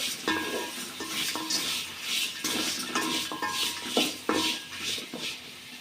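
Tomatoes sautéed in a pan with pepper and cumin: repeated scraping stir strokes of a utensil against the pan, over a light sizzle, fairly close.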